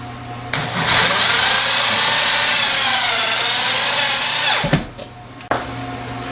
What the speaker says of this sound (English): Now these are self-tapping screws, so you don't have to drill a hole first.